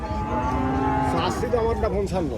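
Crossbred cattle at a cattle market mooing loudly and repeatedly, long drawn-out lowing calls from nearby animals with no talking.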